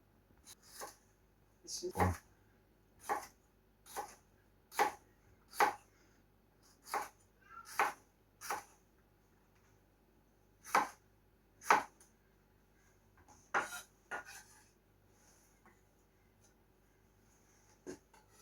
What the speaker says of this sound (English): Trimming the end of the jalapenos so that I can make thin round slices.